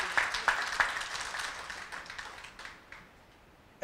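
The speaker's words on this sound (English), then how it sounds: "Give Ms. Tracy Rookert Shaw another round of applause" A few sharp claps open, then audience applause at an event honoring the Tuskegee Airmen thins and fades away, ending in near quiet.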